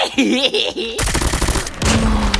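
Rapid bursts of gunfire in a shooting video game, loud and dense after a second of game sound, firing in quick overlapping volleys.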